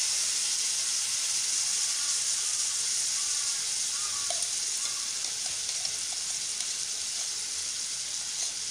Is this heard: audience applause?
no